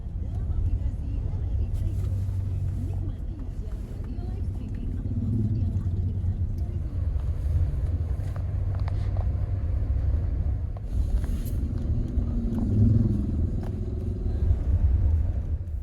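A rented car driving toward a nickel smelter at Morosi, Southeast Sulawesi, giving a low, steady rumble of engine and road noise from inside the cabin, with faint murmurs rising over it now and then.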